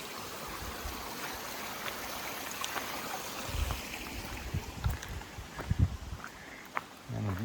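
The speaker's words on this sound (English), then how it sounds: "Probably the last water crossing of the day." A small stream runs at a trail water crossing, a soft steady babble close by, with light knocks and footfall-like thumps scattered near the end and faint voices.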